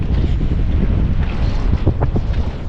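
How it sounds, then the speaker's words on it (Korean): Strong wind rushes outdoors in Miami, buffeting the microphone with a loud, continuous roar and low rumble throughout. "바람 진짜 잘 분다"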